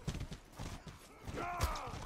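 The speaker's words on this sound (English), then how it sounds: "Why are there so many horses?" Horses in the medieval combat game Mordhau, heard as a muffled, uneven clatter of hooves amid battle noise, with a brief creaking, whinny-like sweep near the end.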